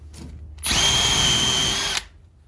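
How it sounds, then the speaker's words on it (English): A Milwaukee M12 FUEL 1/2-inch cordless drill/driver in drill mode whirs at steady high speed for about a second and a half, close and loud, then cuts off abruptly. "Now I'm just gonna switch it to drill right there."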